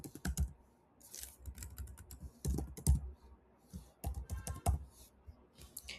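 Computer keyboard typing, quiet and close, with irregular bursts of key clicks and short pauses, sitting over a low room background.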